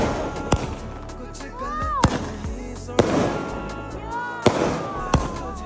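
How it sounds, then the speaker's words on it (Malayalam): Firecrackers burst one after another on Eid eve, about five sharp loud bangs spaced roughly a second apart, with whistling rockets and festive crowd noise in between. "അങ്ങനെ പിന്നെ ഓരോരുത്തരായി പടക്കം പൊട്ടിക്കണം."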